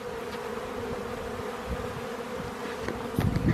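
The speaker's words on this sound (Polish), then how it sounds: "Pomału pszczoły zaczęły latać, wyprysnęły." Steady droning buzz of many bees, close and continuous, with a few louder passes near the end.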